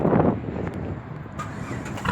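A Dodge Challenger V6 fitted with a straight pipe exhaust cranks and fires up with a loud, raw burst of engine roar up close, then settles into a rough rumble.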